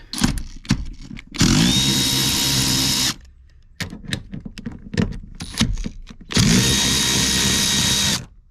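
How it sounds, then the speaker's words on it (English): A Milwaukee Fuel cordless power tool loosens 14mm seat bolts in a 2006 Toyota Tundra, with two loud, close whirring bursts of about two seconds each, separated by clicks and clunks of handling. "my handy Milwaukee fuel"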